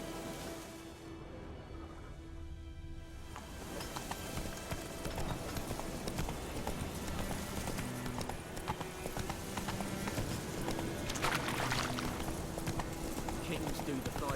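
Horse hooves clip-clop steadily in The Witcher video game, a continuous trotting rhythm under game music and ambience, with someone speaking briefly near the start.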